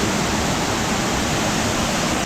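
A waterfall in Savage Gulf, Tennessee pours with a dense, constant roar of falling water, loud and close, steady from start to finish with no voices.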